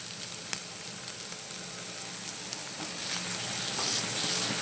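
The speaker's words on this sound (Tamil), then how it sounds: "எண்ணெய் அதிகமாக காஞ்சிடுச்சு அப்படின்னு நினைக்கிறேன் அதனால தான் அப்படி இருக்குது சவுண்டு" Onions frying in very hot oil give a steady, fairly close sizzle with fine crackling that builds slightly toward the end, with no talking.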